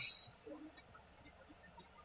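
Computer mouse clicking in Excel while adding a trend line to a chart, a few light, close clicks in small pairs spaced about half a second apart over quiet room noise.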